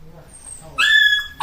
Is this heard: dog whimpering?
yes